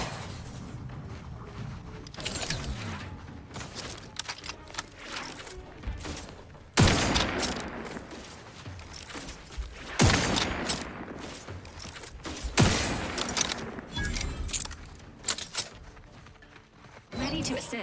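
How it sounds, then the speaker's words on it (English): Repeated bursts of rapid gunfire from a robotics gun in The Outer Worlds 2 crackle through heavy combat noise, with booms and mechanical clatter, while voices talk over the action. "My robotics gun."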